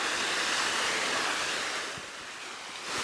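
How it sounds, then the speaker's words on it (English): A small waterfall beside a walking path to the Ono Castle Ruins in Fukuoka, Japan, pours as a loud, continuous broadband rush of water, close by and easing slightly near the end. "another little waterfall"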